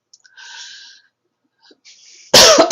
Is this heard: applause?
no